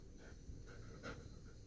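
A dog named Chewy pants quietly and rhythmically nearby, soft quick breaths repeating steadily throughout.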